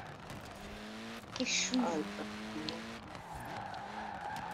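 A car in Forza Horizon 4 drifts under steady engine drone, with a brief burst of tire squeal and skidding near the middle, while players talk over it.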